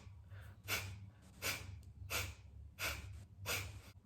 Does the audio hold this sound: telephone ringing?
no